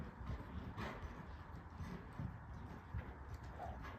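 Horse hooves cantering in an arena during a riding clinic, a faint, soft rhythmic drumming of footfalls heard at a distance, with low background noise.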